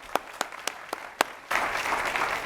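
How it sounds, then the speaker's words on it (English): A few isolated claps at first, then the audience at a genome panel discussion breaks into full, steady applause for the panelists, close and moderately loud. "So again, round of applause for our panelists."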